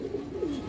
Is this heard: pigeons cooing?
yes